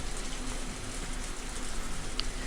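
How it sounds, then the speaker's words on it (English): Steady, dense rainfall hisses continuously in the video game Higurashi When They Cry, a broad even wash of heavy rain with no voices. "With the downpour soaking me through"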